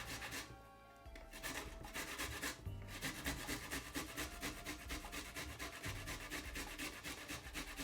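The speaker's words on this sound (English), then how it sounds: "I'm gonna grate this little piece of a ginger." A small piece of fresh ginger is rubbed against a kitchen grater in quick, rhythmic rasping strokes, close and continuous, with a brief pause early on.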